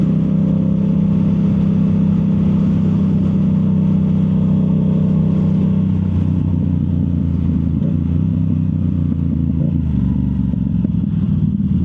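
Yamaha YZF R7 motorcycle fitted with a Yoshimura full exhaust, a loud steady low engine drone idling and holding revs, easing into a rougher lower rumble partway through, alone without talk.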